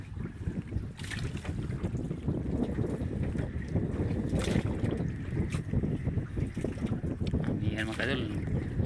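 Strong amihan monsoon wind buffets the microphone and rushes steadily on a small boat at sea, with water sloshing and a voice talking intermittently over the continuous roar.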